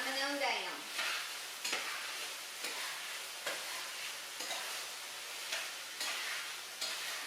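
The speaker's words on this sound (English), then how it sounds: "Check on my meat over here. It's sounding good." Meat and onions fry in a pan with a steady bright sizzle, broken every second or so by scraping stirs, close and fairly quiet with no talking.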